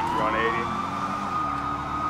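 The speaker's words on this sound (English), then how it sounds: "I heard a whole bunch of sirens kicking up." Police car sirens wail in a police video game set during a vehicle pursuit, a steady, rising electronic tone that holds loud and continuous throughout, with engine rumble beneath.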